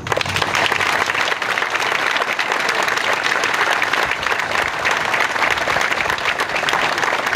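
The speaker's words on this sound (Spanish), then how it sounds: "Para ellos pido un fuerte aplauso." Strong, steady applause fills a civic hall as an audience honours municipal workers, many hands clapping densely and evenly for the full length with no speech over it.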